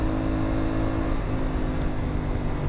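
A stock-engined CFMOTO 450MT adventure motorcycle runs with a steady, even engine drone throughout, with no speech over it.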